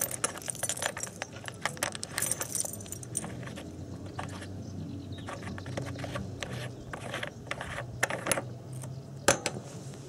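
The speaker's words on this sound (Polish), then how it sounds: "Przy kluczach mamy taki kluczyk, który wkładamy w dwa otwory" A special key turns in the two holes of a tank filler cap on a Nautiner 38 motor yacht, giving continuous metallic jangling, scraping and ratcheting clicks, close and fairly loud with no talk.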